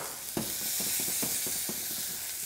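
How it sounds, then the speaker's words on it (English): Onions, ginger, apples and raisins fry in a pan that gets shaken, giving a steady close sizzle. Several soft rattling scrapes and knocks of food shifting against the pan sound through the hiss. "So we're going to add the raisins and just give the pan a little shake."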